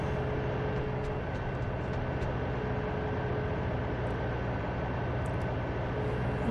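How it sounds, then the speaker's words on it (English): A helicopter in the video game Saints Row 2 drones with a steady, rhythmic rotor thrum and engine hum, constant and fairly loud, with faint clicks and game effects on top. "So how am I supposed to kill a helicopter with no rockets?"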